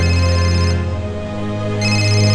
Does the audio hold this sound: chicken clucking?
no